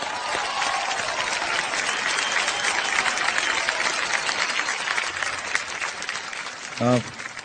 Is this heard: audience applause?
yes